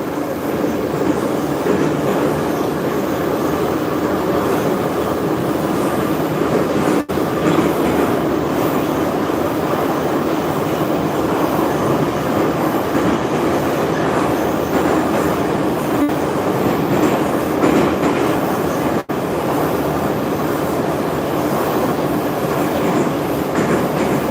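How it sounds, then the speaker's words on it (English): A St Petersburg Metro train rides through the oldest underground section of the Orange Line (Line 4), with a steady loud rumble of wheels and car noise, sparse rhythmic clicks at the rail joints and no talk. "This is St Petersburg Metro. We are now riding the oldest parts"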